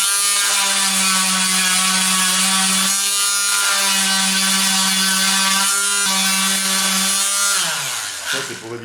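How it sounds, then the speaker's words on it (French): A loud power sander sanding wood for a beehive floor whirs continuously with a strong droning tone, briefly dipping twice before winding down at the end. "un petit coup de ponceuse"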